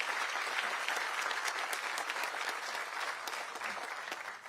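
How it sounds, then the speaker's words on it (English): An audience claps steadily for South Carolina District Teachers of the Year and state finalists at a ceremony, a dense, sustained round of applause with no talking. "let's give one more round of applause for our District Teachers of the Year"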